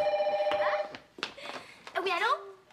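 A telephone bell rings loudly at the start, then gives way to a voice and other speech in a French radio comedy scene.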